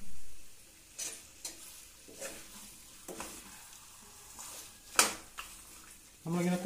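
Dry Kerala-style chicken roast cooked without water, sizzling steadily in a pan over a low flame while a utensil stirs it in several short scraping bursts, with one sharper clatter near the end.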